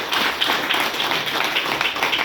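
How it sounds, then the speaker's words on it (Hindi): A large audience at a welcome gathering in Irba, Ranchi claps loudly and steadily, a dense, continuous wash of applause filling the whole stretch. "एक बार अपने लिए जोरदार ताली"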